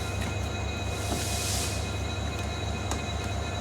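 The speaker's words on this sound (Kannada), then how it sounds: "ಈಗ ಟ್ರೈನ್ ಬರುತ್ತಲ್ಲ, ಅವಾಗ ಟ್ರೈನ್ ಬಂದರೆ ಅವ್ನಿಗೆ ಗೊತ್ತಾಗ್ಬಿಡುತ್ತೆ" A train rolls into a station, its steady broadband rumble and rail noise holding throughout, with faint wheel squeals and clanks rising briefly, heard close and alone.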